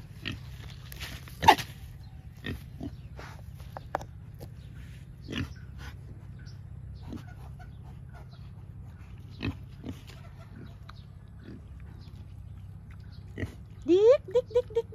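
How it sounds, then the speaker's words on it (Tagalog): Pigs being fed on a Filipino farm give scattered short grunts and snorts over a low steady hum, with a burst of quick squeals near the end as a person speaks nearby. "ito naman ay pangkain lang talaga sa ating mga alagang baboy"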